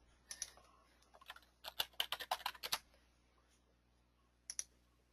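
Keys clatter on a computer keyboard in quick irregular bursts, a fast cluster in the middle and one short burst near the end, close and fairly quiet with no talking.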